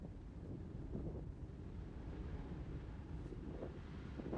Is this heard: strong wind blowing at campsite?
yes